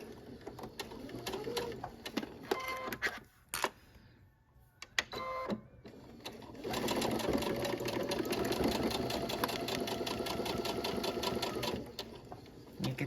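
An embroidery sewing machine stitches a line with a steady, fast mechanical whir, briefly stopping near the start and then running continuously and fairly loud for the remaining seconds.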